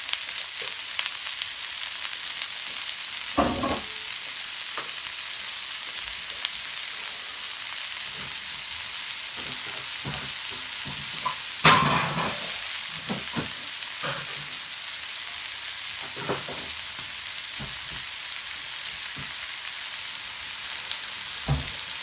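Onions sizzling as they fry in a pan over lowered heat for posh sausage rolls, a steady hiss with scattered crackles and a sharper pop near the middle, no talk.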